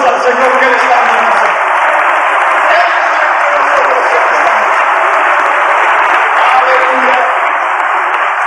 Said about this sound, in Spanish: Denle un aplauso al Señor que le está bendiciendo